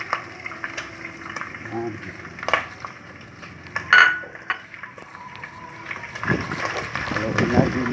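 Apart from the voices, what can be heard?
shrimp added to sautéing pan and stirred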